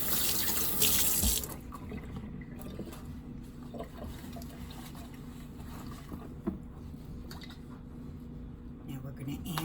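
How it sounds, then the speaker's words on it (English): Water from a kitchen tap splashes over hands being rinsed at a sink, a loud rushing burst at first that settles into a softer trickle, while a person talks over it. "Now at this point I need to rinse my hands."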